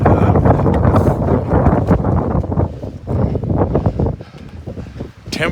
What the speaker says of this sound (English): it has just been a bitter cold wind all morning so far